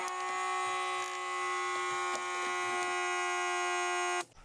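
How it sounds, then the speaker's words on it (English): A small air compressor runs steadily up to 4 bars, giving a constant loud electric buzzing hum with faint clicks, then cuts off abruptly at the end. "I'm gonna start the compressor and let it run to 4 bars."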